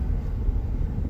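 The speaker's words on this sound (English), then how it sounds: "I do apologize about the air noise." Car air conditioning blows in a steady, low, rushing roar that fills the cabin, continuous and even, with no voices.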